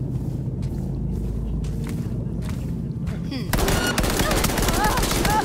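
Gunfire rattles in the video game Cyberpunk 2077, with dense shots breaking out over a low game rumble partway through, loud and close.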